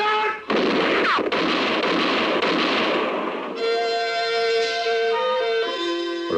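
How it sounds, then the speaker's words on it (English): A dense volley of gunfire roars for several seconds in an old-time radio western drama shootout, loud and continuous, then gives way to a sustained musical chord. "the moonlit clearing thundered to the sound of gunfire"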